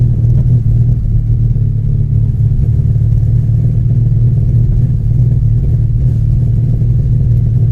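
A Ford XR3i convertible engine held at full throttle gives a loud, steady, low-pitched drone with a rough, shaking rumble, running continuously at close range with no talking.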